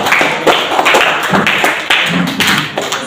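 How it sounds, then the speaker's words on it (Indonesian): Several people in a classroom or training session clap their hands in uneven, slightly rhythmic bursts, close and loud, with no talking over the claps. "Tepuk tangan dulu."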